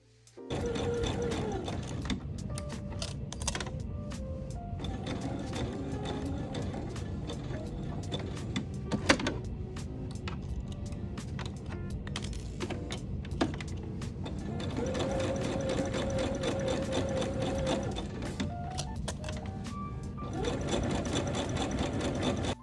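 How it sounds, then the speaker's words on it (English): Sewing machine basting fabric with a 5mm stitch length, a close, steady mechanical whirr in long runs with short pauses between, needle rhythm clattering evenly over a low motor hum. "Baste about 1/4 inch away from the edges using a 5mm stitch length."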